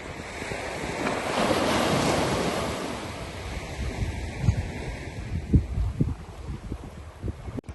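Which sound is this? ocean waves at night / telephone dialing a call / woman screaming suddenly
ocean waves at night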